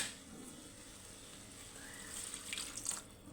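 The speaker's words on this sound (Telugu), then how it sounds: "ఇప్పుడు ఇందులో కొంచెం నీళ్ళు వేసుకుందాం" Water runs and splashes steadily into a pan of mashed pav bhaji gravy, a soft continuous trickle that swells slightly toward the end.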